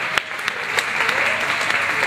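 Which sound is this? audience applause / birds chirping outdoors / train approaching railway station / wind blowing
audience applause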